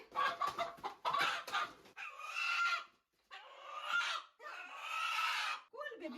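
A country hen clucks and squawks in several loud, agitated bursts with brief pauses between them, close up.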